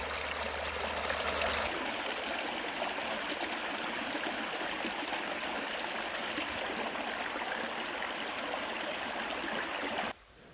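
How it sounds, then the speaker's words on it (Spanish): River water flows steadily beside the Vinalopó mills at Banyeres de Mariola, a constant near rushing and gurgling. A low rumble fades early on, and the sound cuts off sharply at the very end. "vamos a disfrutar un poquito del sonido del agua"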